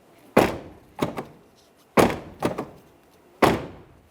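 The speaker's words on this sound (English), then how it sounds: "Let's go ahead and close the door and test the functionality that way." The front door of a Jeep Patriot is shut repeatedly, with four solid thunks at close range, some followed by smaller rattling latch clicks, and short quiet gaps between them.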